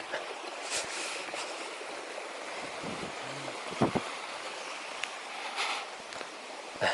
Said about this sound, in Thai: ลำห้วยนะประมาณ 3ลำห้วยนะครับไหลมาบรรจบกันอันนี้ก็น่าจะมาจากน้ำตกห้วยสายขาวนะครับ